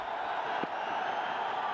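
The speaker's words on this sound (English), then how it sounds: "Massive cheer for the skipper." A stadium crowd at a Pakistan Super League cricket match roars for Peshawar Zalmi captain Shahid Afridi, a dense, steady wash of distant cheering throughout.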